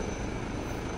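An H160 helicopter makes a steady, dense whirring roar of rotor and engine, constant and fairly loud with no voices.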